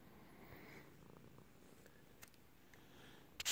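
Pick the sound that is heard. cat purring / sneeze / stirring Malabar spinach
cat purring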